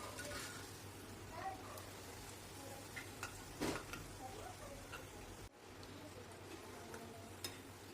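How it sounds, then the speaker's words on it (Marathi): Spinach puris frying one at a time in hot oil over low heat, a soft steady sizzle with faint ticking and stirring taps running through, plus one brief louder clink midway. "अशा प्रकारे एक एक करून आपल्याला सर्व पुऱ्या तळून घ्यायच्या आहे।"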